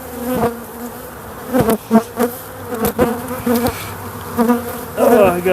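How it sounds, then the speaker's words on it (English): Around twenty honey bees buzz close about a beekeeper, their loud, droning wingbeats swelling and fading as individual insects zip past near the ear. "there's maybe 20 bees just buzzing around me"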